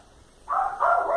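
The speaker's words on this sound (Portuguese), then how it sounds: "Cachorro latindo, você é doido." A dog barks once or twice in quick succession, loud and close, a short sharp outburst with no voices.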